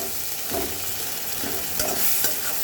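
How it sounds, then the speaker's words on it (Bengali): Onion paste frying in a pan for Bengali mustard hilsa, a quiet steady sizzle with a few soft spatula scrapes in a slow rhythm. "এখন আমি এটাকে পেঁয়াজটাকে খুব সুন্দর করে ভেজে নেবো"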